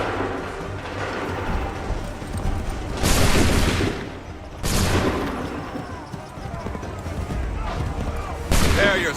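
Musket volleys in Assassin's Creed 3 Remastered: three loud, broad blasts of massed gunfire at intervals, each trailing off, over a steady noisy battle background.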